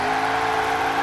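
Chevrolet Camaro engine in Forza Horizon 4, a steady loud droning drone held at constant pitch through the whole moment, no voice over it.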